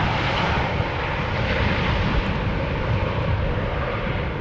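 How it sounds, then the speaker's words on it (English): An Embraer airliner arriving at Amsterdam Schiphol Airport during parallel landing operations, its engines giving a steady, loud broadband roar that holds unbroken through the whole stretch with no voices on top. "Parallel arrivals still very much in progress. This is an Embraer"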